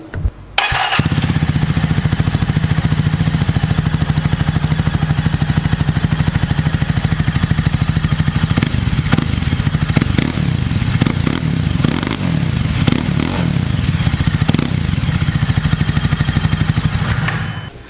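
A Jawa motorcycle engine runs at a steady idle, then the exhaust note rises and falls through several sharp throttle blips. The bike is close and loud, and no one speaks.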